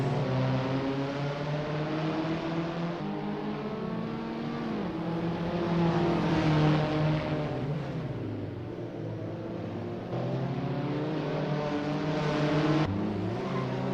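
Abarth 500 race car engines in Assetto Corsa at the Maccu Grand Prix, a continuous buzzing drone whose pitch climbs and falls through gear changes, with several cars audible at once.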